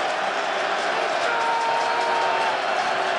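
A football stadium crowd at an XFL game roars in a steady, loud, continuous wall of cheering and noise, with a commentator talking over it.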